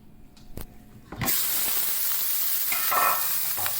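Steak dropped into a cast-iron skillet heated to 400 degrees: after a quiet start with a few small clicks, a loud, close sizzle bursts in and holds steady, with brief spitting flares, and no talk.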